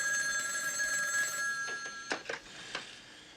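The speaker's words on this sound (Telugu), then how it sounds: "లూయిస్, ఆ, ఫోన్ నీకే." A telephone bell rings with a steady, bright electronic trill for about a second and a half, then stops, leaving a few soft clicks and rustles in a quiet room.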